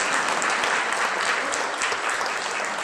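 An audience claps steadily at a literary evening honoring a prose writer and her husband, a dense, even wash of applause holding from start to finish with no pauses.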